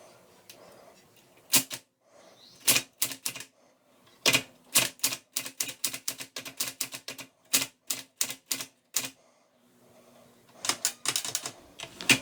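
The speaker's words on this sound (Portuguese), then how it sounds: "Então é assim que funciona a máquina de datilografia ou a máquina de escrever." A mechanical typewriter clatters as keys are struck in quick irregular bursts and runs, each strike sharp and close, with short pauses between groups and no talking.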